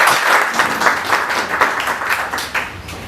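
An audience at an official launch event applauds after a speech, with dense, steady clapping across the room that carries on throughout at an even level.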